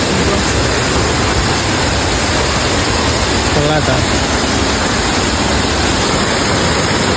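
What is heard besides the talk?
small waterfall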